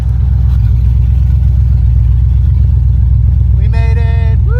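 Chevy S10 truck fitted with a custom LS exhaust, driving with a steady loud low drone throughout, and a brief tonal voice-like sound near the end.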